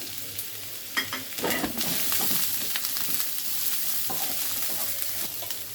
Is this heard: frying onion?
yes